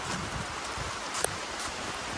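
Steady, soft rain hisses evenly throughout, a continuous wash of falling drops with no other clear sounds.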